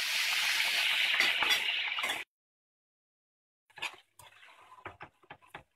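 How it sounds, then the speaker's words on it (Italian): Water from cooked spaghetti pouring out as the pasta is drained, a steady rushing splash for about two seconds that stops abruptly, followed by soft clinks and scraping of kitchen handling. "Ora vado a scolare la pasta"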